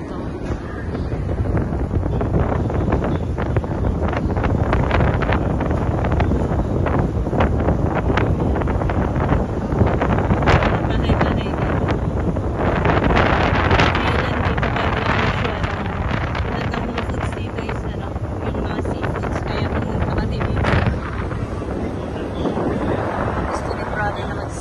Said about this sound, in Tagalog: lakas ng hangin siguro